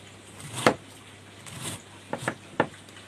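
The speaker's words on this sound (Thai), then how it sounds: "หั่นนะคะหั่นฝอยๆนะคะ" A knife slices cabbage finely on a cutting board, giving four sharp, separate chopping strokes with short pauses between them, close and distinct against a quiet background.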